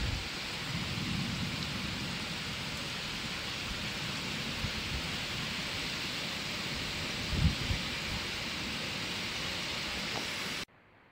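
Heavy rain pours down during a flood in Zhuhai, China, as a dense, steady roar of downpour. A low thump sounds briefly partway through, and the rain ends abruptly at the very end.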